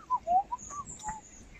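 Wild Indian ringneck parakeets, hand tame and being fed by people, give a few short, sharp whistled calls in quick succession, fairly near and clear over quiet background.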